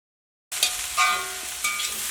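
Cabbage thoran cooking in a pan, stirred now and then, gives a soft sizzle and light scraping that begin abruptly and swell in two brief bursts, close and fairly quiet, with no talking.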